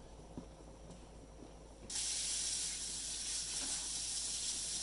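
A pot of crab paste noodle soup for bún riêu at a rolling boil gives a soft bubbling simmer, then a steady loud hissing roar that rises abruptly about two seconds in and stays constant.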